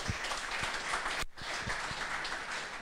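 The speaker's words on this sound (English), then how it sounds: "A round of applause for him," An audience at a JavaScript meetup applauds a presenter, a dense, even patter of many hands that runs steadily, with a brief dip near the middle and a few sharper individual claps standing out.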